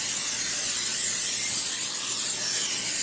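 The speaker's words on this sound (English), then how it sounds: "just spray your baking dish with Pam" Pam cooking spray hisses from the can onto a baking dish in one long, steady, close burst, bright and airy, with no talking.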